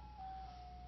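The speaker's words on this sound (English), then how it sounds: "So, there's an ice cream truck outside." An ice cream truck drives around outside and plays its steady chiming tune, faint and distant, with a low rumble underneath and no talking.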